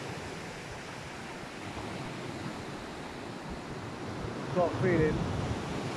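Sea surf rolls in along the Isle of Wight coast as a steady broadband wash, swelling slightly toward the end, while a voice speaks briefly near the close.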